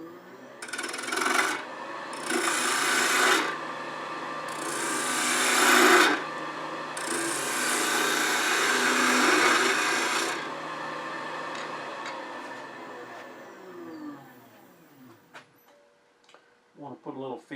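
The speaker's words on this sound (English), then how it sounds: "So I'm going to use a 3/8 inch spindle gouge and get this edge flat." A 3/8 inch spindle gouge cutting bubinga wood on a lathe, making loud rasping bursts in several passes that stop abruptly, then fade into a quieter whirring spin near the end.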